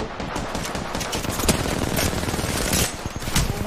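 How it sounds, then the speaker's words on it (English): Rapid automatic gunfire in a video game, dense bursts of shots rattling continuously and loudly with sharp peaks, nearly filling the whole stretch. "Stop shooting!"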